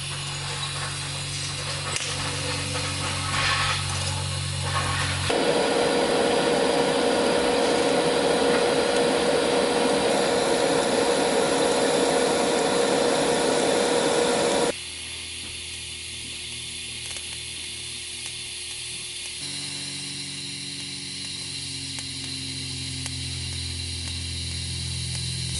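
TIG welding beads and a tube joint with a CK Worldwide MT200 AC/DC welder: a sustained electric buzzing hiss that shifts tone between several separate welding passes, with a change in background hum partway through, fairly close and no speech.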